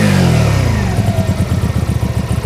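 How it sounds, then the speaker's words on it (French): An Archive Motorcycle AM Blackpearl 125 custom with a twin-cylinder engine and twin exhaust is loud and close, dropping from a blip of revs into a steady, raspy, throbbing idle. "Ça fait vraiment un petit son un peu rauque, très très chouette."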